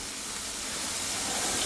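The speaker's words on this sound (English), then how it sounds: "So now we can add our peas." Peas hit a hot pan of cooked mushrooms and onion, setting off a steady, broad sizzling hiss that swells slightly over a second or two.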